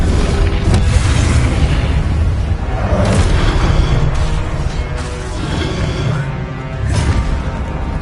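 Confringo spell blasts in Hogwarts Legacy on PS5, a dense run of loud booming explosions with rumbling impacts that overlap continuously, several sharper bursts standing out, no speech.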